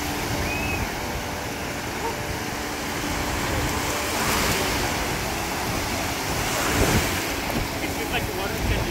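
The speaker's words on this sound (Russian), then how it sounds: "Вот волны." Ocean waves breaking on a beach at Myrtle Beach, South Carolina, a continuous wash of surf with gusty wind buffeting the microphone and a few swells rising in the middle and later on.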